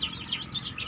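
Chicks cluck in short, repeated peeps with a soft flutter of wings, close by and brief, with no talking.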